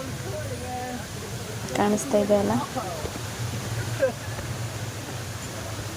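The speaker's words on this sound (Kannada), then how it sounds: "ನಿಮ್ಗೆ ಆಲ್ರೆಡಿ ಸೌಂಡ್ ಕೇಳ್ತಾ ಇರ್ಬೋದು ಆ ನೀರಿನ ಸದ್ದು" Irpu waterfall's rushing water, a continuous broad roar heard from nearby at the entrance, running steadily beneath someone talking.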